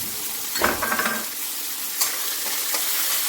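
Green peas hit a hot frying pan for a cauliflower singara filling and are stirred: a few scraping spoon strokes and clinks over a steady close sizzle, with no talking.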